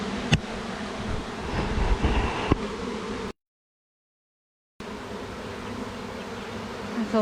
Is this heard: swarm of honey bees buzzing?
yes